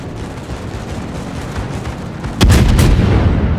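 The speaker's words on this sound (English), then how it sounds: "Anti-aircraft gun crews are on full alert." In World of Warships, anti-aircraft guns open up after a rumbling stretch of battle noise, with a burst of loud, close booming fire that keeps pounding to the end.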